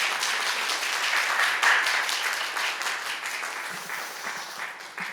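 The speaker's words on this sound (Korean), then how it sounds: "우리 목사님 오실 때 박수로 환영하겠습니다." A church congregation claps warmly to welcome a missionary to the pulpit. The dense, steady applause gradually thins and softens over about five seconds.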